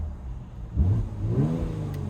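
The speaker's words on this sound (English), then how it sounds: "we'll keep it in Sport Plus right now, so we have the loudest exhaust" A 2019 Mercedes-AMG GLC 43 Coupe, parked with the exhaust in Sport Plus, idles low and then gives a sharp rev that rises and drops, followed by a second shorter blip, loud and close with no talking.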